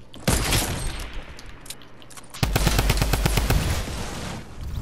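Gunfire in the video game Fortnite: a sharp opening shot, then scattered reports, followed by a dense, loud burst of rapid automatic fire that rattles on for over two seconds.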